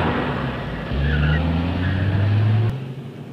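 In a movie chase, a car peels off with a rising engine roar and a sustained tire squeal that cuts off abruptly, loud and close, with no voices.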